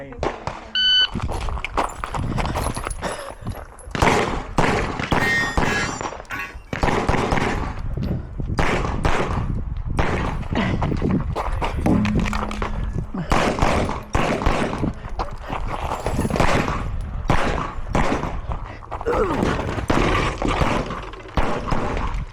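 Rapid bursts of loud, close gunfire from a pistol at an IDPA shooting match stage, with sharp repeated shots in quick strings and brief pauses, with people talking and faint range beeps in between.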